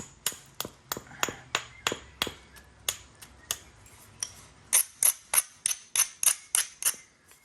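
Raw Buffalo River and Horse Creek chert struck by direct percussion flintknapping: a steady series of about twenty sharp, close cracking blows at a regular rhythm, with the last several strikes brighter and harder-edged, and no talking.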